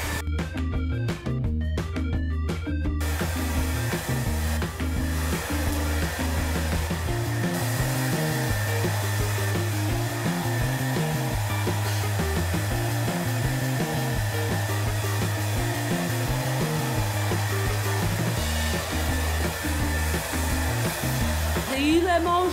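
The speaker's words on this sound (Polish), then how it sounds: "Okej, idę po suszarkę." A handheld hair dryer runs continuously close by, a loud, steady whooshing roar with a constant motor hum that holds without pause for over twenty seconds.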